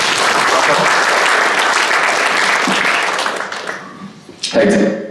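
Loud applause from a business summit audience greeting a panel speaker, dense clapping that thins out after about four seconds before a voice begins speaking near the end.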